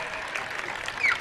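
An audience at a Hindi comedy show claps together in a brief burst of dense applause.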